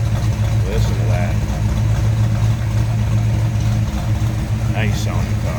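A warmed-up 1969 Dodge Charger engine idles steadily with a low, even rumble, choke pushed in, and a person talks briefly over it.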